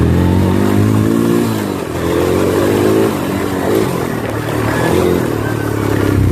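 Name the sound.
motorcycle riding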